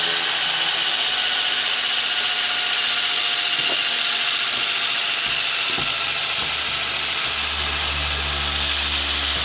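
The small motor of an Anderson M5 radio-control motorcycle runs with a steady, dense whine and whir that stays unbroken for the whole stretch. A few faint ticks and knocks sit underneath it. It is close and fairly loud, and there is no talking.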